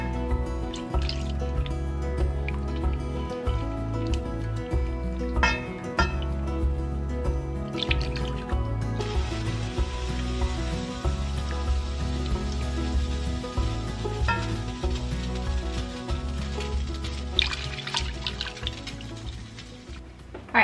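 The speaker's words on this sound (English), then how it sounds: "slowly add in your 1/2 and 1/2. And just keep stirring it with your whisk." A whisk stirring half and half into clam chowder in a pot, soft repeated liquid swishes and light metallic taps in an uneven rhythm, quiet and close.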